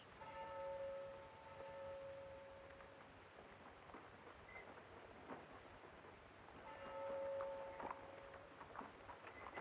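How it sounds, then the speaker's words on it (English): A church bell tolls twice, slow and faint in the background of the soundtrack of the film The Seventh Seal, over a low, noisy ambience. "we hear the sound of a bell tolling in the background"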